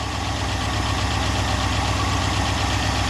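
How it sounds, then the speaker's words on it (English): A Mopar car engine idles steadily at close range, a faint rapid ticking from the lifters running through the low, even rumble. "that little bit of tick you hear is the lifters"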